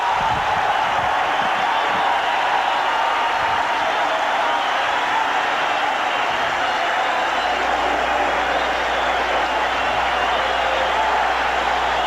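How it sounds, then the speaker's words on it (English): A hometown crowd at a Comiskey Park baseball game fills the air with a broad, steady roar of cheering and applause, sustained and fairly loud for the whole stretch, with a low rumble joining near the end. "here comes that hometown crowd, as they should"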